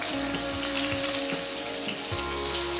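Ginger garlic paste for butter chicken fries in a pan with a dense, steady sizzle and a few soft stirring knocks, fairly close and without speech.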